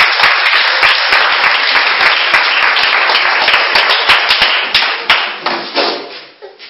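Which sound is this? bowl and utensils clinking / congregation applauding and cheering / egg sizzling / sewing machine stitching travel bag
congregation applauding and cheering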